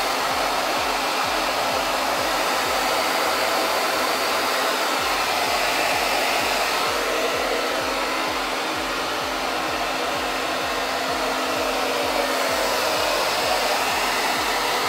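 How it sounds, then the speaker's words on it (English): A hair dryer on medium heat blows steadily and loudly at close range, its constant whirring hum and airflow unbroken for the whole stretch. "And then with the hairdryer on medium heat, protect it with your hand and then just slowly heat it up."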